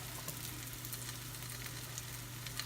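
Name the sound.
flattened dough frying in hot oil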